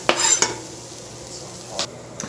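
Celery tossed into a pot of flour roux cooking for a creamy potato soup, giving a few brief scraping stirs and a soft sizzle, close and moderately loud, with no talking.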